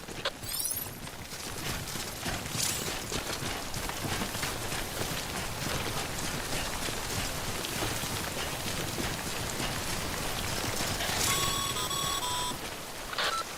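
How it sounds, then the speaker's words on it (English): Timefall rain in Death Stranding falls steadily and evenly throughout, a dense hiss of drops on surfaces, with a few faint electronic beeps near the end. "Don't stay out in the rain any longer than you have to."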